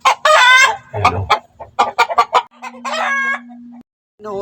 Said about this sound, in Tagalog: Ano ho yan ang aking dalawang tandang.